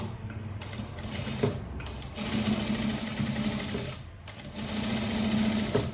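A sewing machine runs steadily while stitching a curve on a striped shirt, a continuous close mechanical whir with brief pauses and restarts between bursts, loud and without talk.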